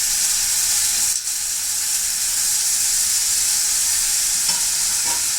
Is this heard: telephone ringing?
no